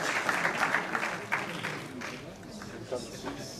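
A crowd claps for an Italian kickboxer at an official weigh-in, with scattered, moderate applause that is fairly distant and heard under talking and room noise.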